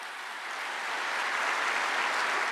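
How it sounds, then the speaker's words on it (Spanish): An audience applauds steadily, a dense wash of clapping that swells slightly and holds without any voices over it. "La audiencia aplaude esa verticalidad"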